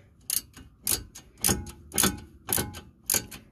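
A ratchet wrench works the bottom brake caliper bolt out on a 2016 Ford Fusion's rear brakes, six sharp, evenly spaced clicks close up with short silences between.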